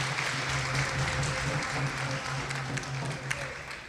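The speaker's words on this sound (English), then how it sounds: "His Holiness, Bhakti Pravava Swami, can we get a round of applause for" A temple audience in Toronto claps together in a dense, continuous wash of applause that stays loud and even throughout.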